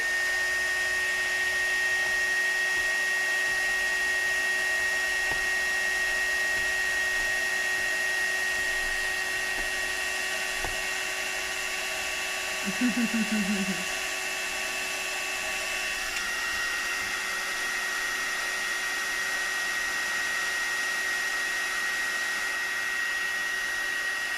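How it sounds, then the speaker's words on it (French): A hair dryer aimed at a CD to heat it blows continuously at high power, a steady whining drone throughout, with a brief low rattle partway through. "un sèche-cheveux très fort. Et donc, on va chauffer."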